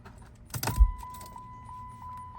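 Dodge Challenger SRT8 keys jangle in a brief loud burst as the ignition is switched off, followed by a steady electronic chime tone with soft repeating beeps.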